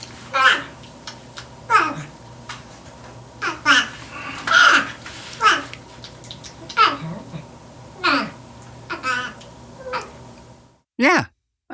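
Porcupine chattering in a steady stream of squeaky, voice-like whines, grunts and moaning calls that sound almost like babbling speech, close and fairly loud, ending with a sharp cry.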